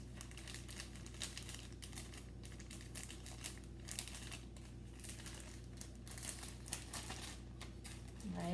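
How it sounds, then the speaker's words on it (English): A paper towel is pushed into a quart-size plastic bag, giving soft, continuous crinkling and rustling up close, faint and steady throughout. "I'm going to open it up and I'm going to put my paper towel inside the bag towards the bottom."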